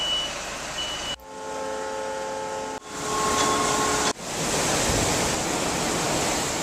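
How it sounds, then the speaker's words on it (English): A truck's reversing alarm beeps steadily as it backs onto the Chenega ferry at Whittier, Alaska, half buried under loud, broad rushing noise from wind and engines. "if your mode of transportation is a little bit bigger, back your truck on"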